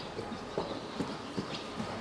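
Horse hooves clip-clopping at a steady walking pace during a riding clinic, a series of soft, moderately close thuds over a low background hum, with no talking.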